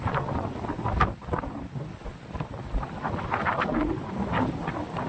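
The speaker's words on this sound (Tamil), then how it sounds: "காற்று ரொம்ப அடிக்குதுங்க ஏறும்போது" Strong gusty wind on the Kondarangi hills buffets the microphone in loud, continuous roaring bursts, with no voices.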